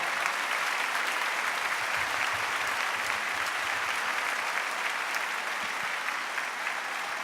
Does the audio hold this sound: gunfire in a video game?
no